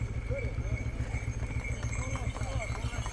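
Horses' hooves clip-clop steadily on a road in a small town along the Chuanzang Middle Line, a continuous rhythmic clatter at close range beneath a steady engine hum, with occasional faint whinnies.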